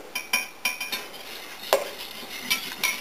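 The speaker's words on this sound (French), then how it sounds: "à l'aide d'un fouet, je vais homogénéiser le levain avec la quantité d'eau supplémentaire" A whisk clinks and taps irregularly against a bowl while sourdough starter is mixed with extra water and oil into a very liquid batter, a series of light, close, scattered knocks.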